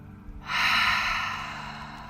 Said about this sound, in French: On prend une grande inspiration par le nez